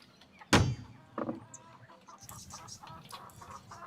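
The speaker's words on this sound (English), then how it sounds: "It's one chicken, mate." A chicken clucks: a sharp, sudden squawk, then a few scattered, softer clucks against faint background noise.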